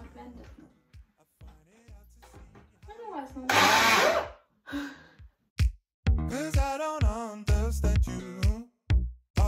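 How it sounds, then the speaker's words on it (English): A loud burst of blender-like whirring runs for about two seconds, set between stretches of close speech. "I'm just going to use like a blender to blend it all up."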